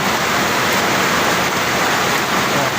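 A torrential monsoon downpour over mountainous Zambales roars as a constant, loud wash of noise heard near a window, even and unbroken throughout, with nobody speaking.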